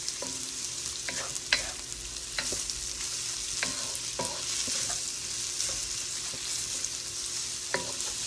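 Vegetables stir-frying in about a quarter cup of oil for chop suey, a steady close sizzle broken by sharp periodic clicks and scrapes of a utensil against the pan, no speech.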